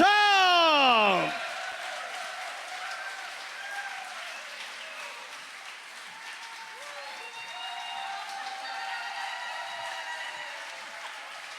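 An audience at a televised music show applauds to welcome performers, starting as a dense close roar of clapping under a voice and then settling into a steady, softer wash of applause with music tones rising over it.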